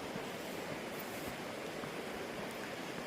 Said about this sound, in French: le bruit de l'eau.